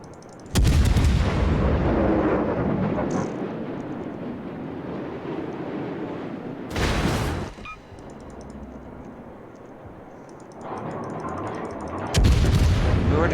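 Naval gunfire and explosions in World of Warships, with a Cleveland cruiser firing and torpedo tubes hit: heavy booming salvos and blasts over a continuous rumbling battle roar, with sharp bursts near the start, middle and end.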